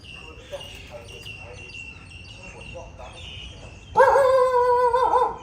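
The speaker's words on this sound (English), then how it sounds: "there's a dog there, so I'm not gonna go there now" Near a Buddhist temple in Hua Hin, Thailand, outdoor ambience with chirping birds and insects gives way to a loud, sustained dog bark or howl that rises sharply nearby near the end.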